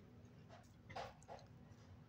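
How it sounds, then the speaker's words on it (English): A puppy gives a few faint, high whimpers and short yips in a quiet indoor room over a low steady hum, with no nearby speech. "He's being a puppy right now."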